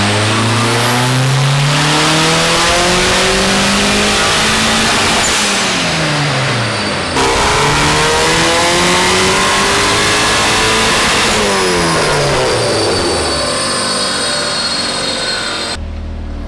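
BMW E36 with a swapped Volkswagen 1.8T engine on a dyno: loud, close engine sweeps rising in pitch through the gears, several hard pulls winding up and dropping back, with no talking.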